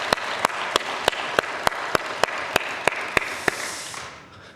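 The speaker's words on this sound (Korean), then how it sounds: "하나님께 영광의 박수 올려드리십시다" A church congregation applauds during a Sunday worship service, with sharp, evenly spaced claps in a steady beat over a dense wash of crowd clapping that thins out near the end.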